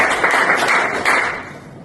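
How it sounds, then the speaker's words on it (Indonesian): Classmates applaud a student during a microteaching lesson with a short, dense round of clapping, fairly loud and close, thinning out and fading in the final moments. "Beri tepuk tangan untuk Jasina."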